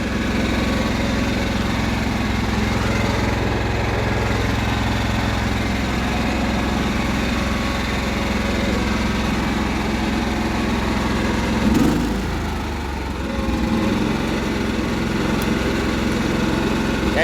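A Cub Cadet 1330 lawn tractor engine runs at a steady idle from start to finish, with a brief bump in loudness partway through. No one speaks over the engine.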